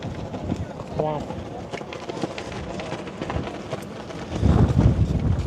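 Strong wind buffets a microphone outdoors at Arnside on a warm, breezy evening, a continuous low rumbling roar that swells louder toward the end, with people talking intermittently over it.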